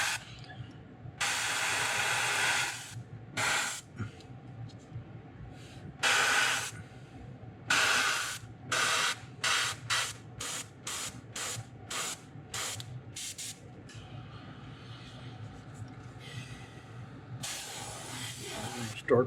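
Short hissing bursts of spray paint laid down as a first coat on a Wiggle Wart fishing lure, starting with a couple of longer sprays, then a rapid series of brief puffs, close and crisp.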